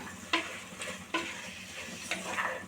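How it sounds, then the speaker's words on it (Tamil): Mint and coriander leaves being stirred into a pot of vegetable biryani, three distinct scraping ladle strokes over a quiet background sizzle, close and soft, no voices. "சேர்த்துட்டு நல்லா கிண்டி விடுவோம்."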